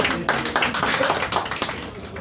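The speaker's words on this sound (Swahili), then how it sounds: "Tumpigie makofi tafadhali." Applause from an audience at a Kenyan awards ceremony unveiling, a dense, steady wash of many hands clapping close and loud throughout, with no clear voices above it.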